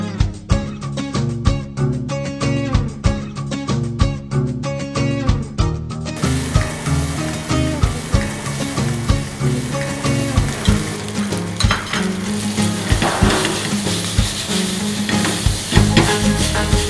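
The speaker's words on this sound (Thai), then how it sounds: "แล้วนี่เชฟกำลังผัดพาสต้าอยู่เลย" A chef stir-fries pasta in a pan in a hotel resort kitchen: a loud, continuous sizzle is broken by regular rhythmic tossing and stirring clatter, close up and with no voices.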